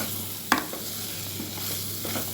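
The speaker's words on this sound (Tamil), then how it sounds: "மிளகாத்தூள் போட்டு வதக்கிக்கோங்க." Capsicum is sautéed with chili powder in a pan for paneer masala dosa filling, a steady low sizzle with one sharp clink of a spoon and a few soft stirring scrapes, no voices.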